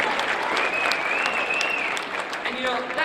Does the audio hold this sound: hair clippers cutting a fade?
no